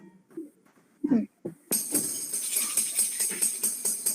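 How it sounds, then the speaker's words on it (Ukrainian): After a few brief voices, a tambourine shakes steadily with bright rhythmic jingles, fairly close. "Це лунає бубан."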